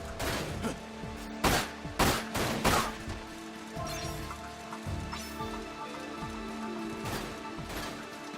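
Gunfire in a shooting video game, with scattered sharp shots and a few quick bursts over a busy background of game sounds, moderately loud and irregularly spaced.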